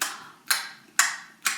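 A person imitates lip-smacking while eating, three sharp wet smacks spaced about half a second apart, close and alone.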